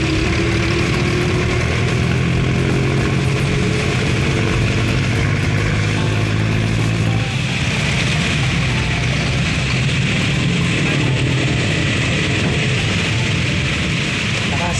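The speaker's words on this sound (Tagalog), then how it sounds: "Malakas ang hangin." Strong typhoon wind roaring steadily and loudly throughout, a constant broadband rush with engine-like rumble beneath, as if recorded outdoors or from a vehicle on an empty road during the storm.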